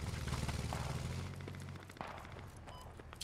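Twin 30 mm autocannon fire in the military shooter Squad, a dense run of heavy rapid shots in the first half that thins into scattered distant reports and clatter.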